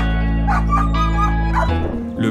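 A dog gives several short yips and barks over a steady low hum, ending with a brief whimpering sound.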